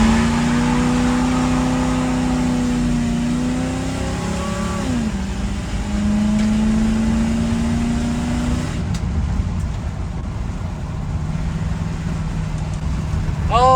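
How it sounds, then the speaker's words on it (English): An abandoned project truck does a burnout on a highway, its engine revving loud and close in rising and falling pulls with whirring drivetrain whine, the tone dropping into a rough idle rumble near the end. "Got to do a burnout."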